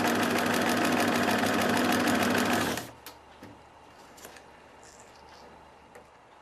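A sewing machine runs a 2mm wide zigzag stitch on a prototype pilot enclosure, a loud, steady, rapid mechanical chatter that stops abruptly after almost three seconds, followed by quiet handling sounds.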